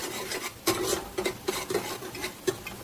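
Chopped coriander stirred into hot oil in a pan for a spicy village-style chicken curry, with a utensil giving repeated light scrapes and clinks at an uneven rhythm, close and fairly quiet.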